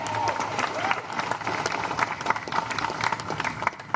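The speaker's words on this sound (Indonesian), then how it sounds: "Sekali lagi tepuk tangan untuk media dan teman-teman wartawan" A crowd at an event applauds the media and journalists, with thick continuous clapping and some crowd murmur filling the whole stretch at a steady loud level.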